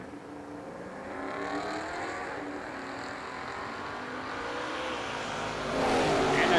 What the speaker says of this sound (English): Tony Borg in the 2000 Camaro, nitrous assisted out of Michigan.